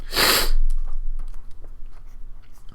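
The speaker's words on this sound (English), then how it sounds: "you'll have to excuse all my sniffing and sneezing" A single loud, sharp sniff through a stuffy, congested nose comes close up at the start. It is followed by quieter breathing and a few faint clicks.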